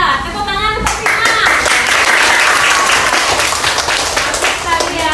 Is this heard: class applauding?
yes